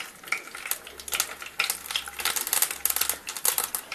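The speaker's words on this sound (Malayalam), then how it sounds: "ഓക്കെ, എടുത്തു വച്ചിരിക്കുന്ന കടുകിട്ട് പൊട്ടിച്ചു കൊടുക്കാം" Mustard seeds crackle and pop in hot oil in a pan, a dense run of sharp spluttering bursts over a steady sizzle, close and fairly loud throughout.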